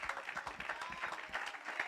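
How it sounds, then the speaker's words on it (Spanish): Church congregation applauding during a sermon, a faint, steady patter of many hands clapping at a distance, with a little voice underneath. "Demos un fuerte aplauso al Señor."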